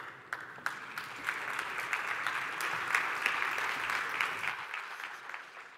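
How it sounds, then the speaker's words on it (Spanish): An audience applauds steadily for several seconds at a cybersecurity conference, a dense patter of many hands clapping with a few sharper claps standing out, fading near the end. "un aplauso para él"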